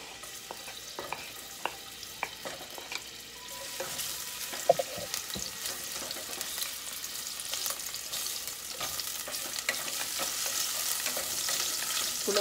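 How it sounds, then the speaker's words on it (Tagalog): Garlic sautéing in hot cooking oil for ginisang kalabasa, a soft sizzle that swells and brightens after a few seconds, with scattered light clicks of a utensil against the pan, fairly quiet and close. "Saka natin igisa ang bawang."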